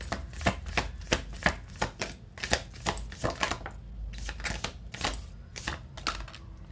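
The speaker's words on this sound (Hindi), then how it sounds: "एक कार्ड और निकाल लेते हैं।" Tarot cards are shuffled and drawn by hand, making close, crisp rhythmic riffles and slaps in quick irregular bursts, with no voices.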